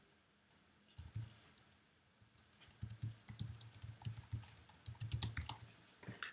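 Rapid, uneven clicking of fingers typing on a computer keyboard, close and clear, in bursts with short pauses and no talking.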